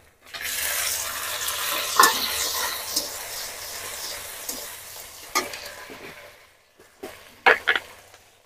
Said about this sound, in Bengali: একটু ভালো করে ভেজে নিতে হবে পেঁয়াজটা